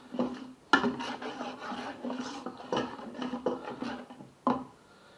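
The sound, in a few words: pressing fish soup through a sieve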